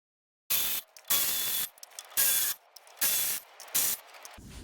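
A hand ratchet clicks in repeated loud bursts, each followed by short pauses, while bolts come off a forestry mulcher head (FAE UML) during a liner change.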